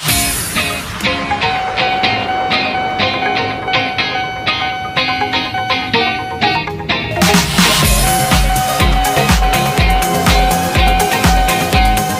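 A KRL commuter train passes the Kebon Jeruk level crossing: loud, dense rumble with a steady ringing tone, then rhythmic wheel clatter building heavily in the final seconds.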